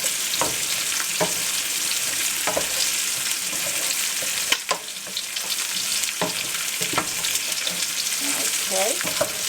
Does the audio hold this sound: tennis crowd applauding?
no